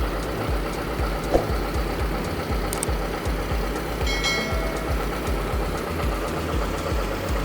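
A John Deere 6320 tractor with very low hours idles smoothly at close range, its diesel engine holding a steady, even low rumble throughout with no speech over it.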